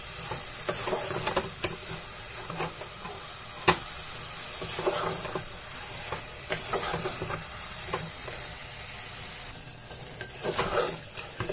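A spoon stirs dal palak in a pressure cooker, steady soft scraping and gentle sizzling hiss with occasional light knocks against the pot.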